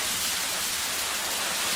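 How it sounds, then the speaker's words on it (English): Steady rainfall in the Minecraft video game, a dense broadband hiss of falling rain, even and unbroken at moderate volume with no other sounds over it. "it's raining as well"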